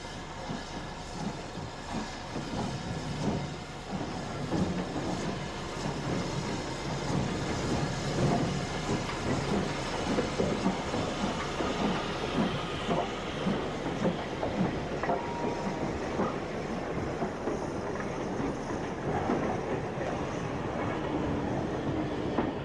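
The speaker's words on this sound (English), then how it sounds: "One of the Southern engines, 73050, is now named City of Peterborough, and is seen on a royal working on the Nene Valley Railway" BR Standard steam locomotive 73050 City of Peterborough working a royal train on the Nene Valley Railway, a steady, close rumble with rhythmic wheel clatter that slowly fades.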